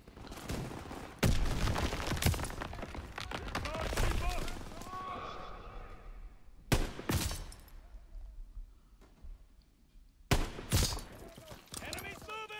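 Gunfire in the Call of Duty: WW2 campaign, a flurry of loud, dense shots near the start, then sharp separate bursts at intervals over a quieter battlefield bed, with game voices talking throughout.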